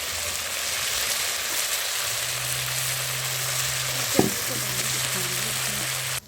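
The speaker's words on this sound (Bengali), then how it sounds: "এই যে কড়াইতে তেল দিয়ে দিচ্ছি, এর ভিতরে" Cumin and ginger paste fries in hot oil in a wok with a steady loud sizzle throughout, a brief stirring clatter near the end and a low hum underneath.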